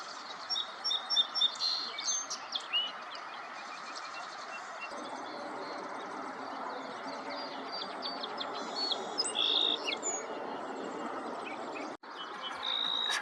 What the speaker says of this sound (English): It's a song sparrow.